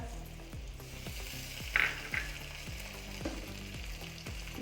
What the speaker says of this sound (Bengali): এটা সোনালি করে ভাজা হয়ে গেছে। এরপর দিয়ে দেব রসুন বাটা, আদা বাটা